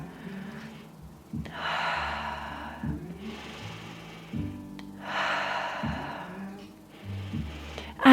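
Slow, steady breaths during a held standing yoga twist, each long inhale or exhale rising and fading in turn, close and fairly loud, with no talking.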